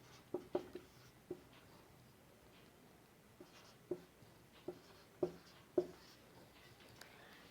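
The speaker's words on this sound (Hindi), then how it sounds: "एक मैट्रिक्स लिखती हूँ बी।" Chalk on a classroom board makes faint, sharp taps and short strokes in irregular clusters as a matrix is written out, with no talking.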